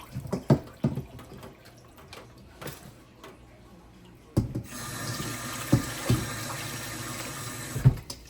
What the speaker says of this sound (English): I already washed and rinsed my meat with salt and lemon juice. But for the camera, you wash it again.